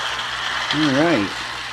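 A Marx toy handcar's small electric motor whirs up and then winds down, a brief rising and falling hum that lasts under a second over faint background noise.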